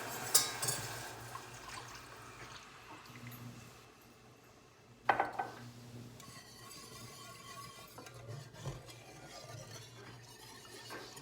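Milk is poured into a pot while making mac and cheese, a soft liquid pour with a clink and some stirring, quiet and alone.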